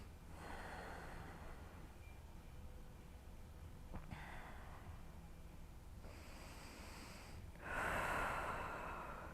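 Slow breathing during a beginner yoga flow, soft airy inhales and exhales rising and falling in a quiet room, with a stronger, louder breath near the end.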